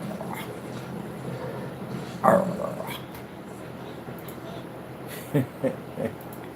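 A dog's low growl and a short yip come through a noisy room, followed by a few quick grunting sounds near the end.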